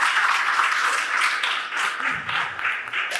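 An audience at a panel talk on youth employability gives a short, moderately loud burst of applause, steady clapping for a few seconds.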